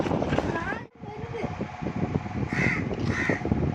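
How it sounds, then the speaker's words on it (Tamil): A crow caws twice near the end, fairly clear, while people talk over wind and background noise. "காக்கா வந்துச்சு."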